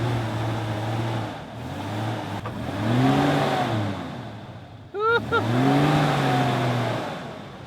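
A four-wheel-drive engine revs hard and repeatedly, rising and falling in pitch as the vehicle sits stuck in soft beach sand. Loud and close, with brief spikes of strain.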